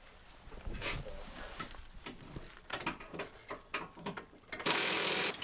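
A ratchet clicks in irregular short bursts while coilover bolts are torqued on a drift car in a garage, fairly faint, ending in a louder steady burst of noise.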